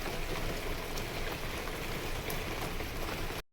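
Heavy monsoon rain pours steadily near a village pond, a constant broadband patter and hiss of drops hitting surfaces, close and continuous until it cuts off abruptly at the end, with no one speaking.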